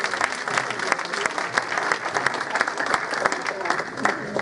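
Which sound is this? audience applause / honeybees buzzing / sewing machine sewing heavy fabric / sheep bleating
audience applause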